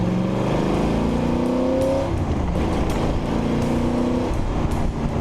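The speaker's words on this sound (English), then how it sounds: "Acceleration is brisk. A little 289 up front is a screamer." A car with a small 289 V8 accelerates hard, its engine note climbing through the revs, dropping at a gear change, then climbing again, loud and close throughout.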